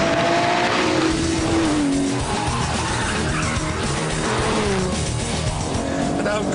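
Aston Martin DBS engine roaring as it accelerates hard through corners on a track, loud and close, with pitch climbing and dropping through gear changes and someone talking over it.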